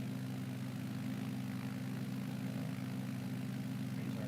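Propeller plane engine in Microsoft Flight Simulator 2020 on a bush flight over mountains, a steady droning hum held at constant loudness throughout.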